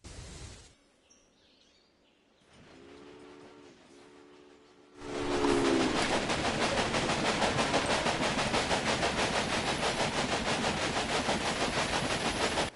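A train rolls along a rail line in a PS4 video game: quiet at first with a brief whistle-like tone, then a loud, steady rhythmic clatter of wheels takes over and continues to the end.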